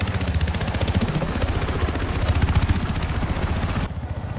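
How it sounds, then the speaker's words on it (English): A helicopter in Battlefield 4 gameplay, a steady rotor chop and engine drone that stays loud throughout, with a brief dip near the end. "I want a chopper."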